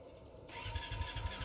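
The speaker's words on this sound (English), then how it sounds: "Let's give that engine a spin." An engine in the video game Brassheart starts up, a muffled rumble that jumps into a louder running drone with a steady whine and rhythmic low chugging pulses.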